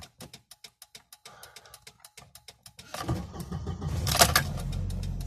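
A 1994 Volvo 940 started with the key: rapid ticking clicks as the key turns, then the starter cranks and the engine catches into a steady, close idle, with no talking.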